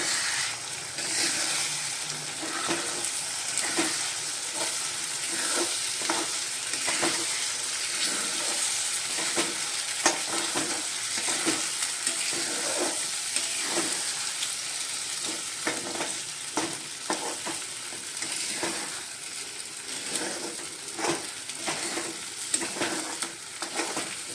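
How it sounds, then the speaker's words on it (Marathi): Three eggs for egg bhurji stirred in a frying pan, with a steady sizzle and continuous scraping, clattering strokes of a spatula, close and unbroken for the whole stretch. "तर मी तीन अंडी फोडून टाकलेली आहेत तर आपण हे आता मिक्स करूया"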